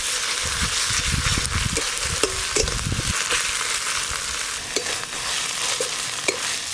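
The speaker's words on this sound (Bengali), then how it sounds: "আদা কাঁচা লঙ্কা বাটা আর পেঁয়াজ কুচি একসঙ্গে আরও ভালো করে ভাজা ভাজা হয়ে গেল।" Chopped onion fries with ginger and green chili paste in a pan, a steady loud sizzle with scraping stirring strokes in the first few seconds, then lighter taps. No speech.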